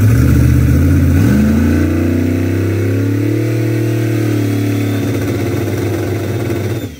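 A drag race car engine revs hard up close, then drops and holds a loud, rough rumble for several seconds during a pre-race two-step launch control check before cutting off at the end.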